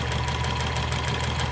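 A sewing machine runs a straight stitch along a pillowcase, a steady continuous mechanical hum and rapid rattle held at an even level, close and alone without any voices.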